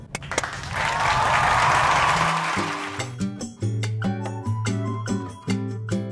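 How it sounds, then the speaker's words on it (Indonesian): Clapping from a group of people, a dense broadband patter that fades after a couple of seconds as a tonal music bed rises and carries on alone. "kita kasih tepuk tangan"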